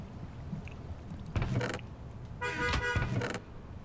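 A car passing by inside the video game Minecraft, heard as two short mechanical whooshing bursts with a honking, whirring tone, the second longer and louder, over a low background hum.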